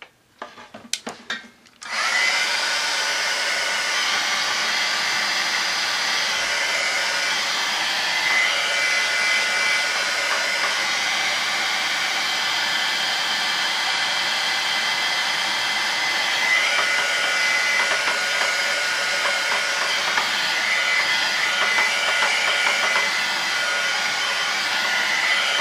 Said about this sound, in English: I am going to dry that a little bit with my heat gun.